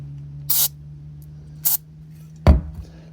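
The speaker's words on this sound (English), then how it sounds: "I take a little bit of brake clean" Brake cleaner sprayed onto engine valve parts in three short, sharp hissing bursts, each under a second and separated by pauses, recorded close up over a faint steady hum.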